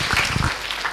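Short burst of applause from a classroom audience for a student during a session on the Bhagavad Gita, a brief patter of clapping hands that fades after half a second.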